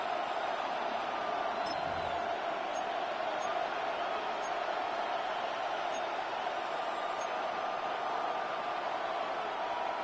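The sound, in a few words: football stadium crowd cheering during a big play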